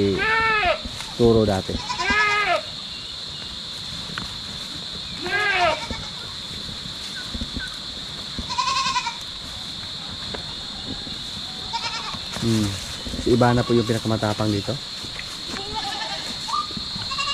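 Goats bleat repeatedly, including a pregnant young Anglo-Nubian cross doe named Ivana, on a farm with smaller goats nearby, in several loud wavering calls scattered over a steady high background hum as someone talks between them.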